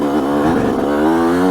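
A Yamaha YZ125X two-stroke dirt bike climbs a steep hill in first gear with a little clutch, its engine buzzing loud and close throughout.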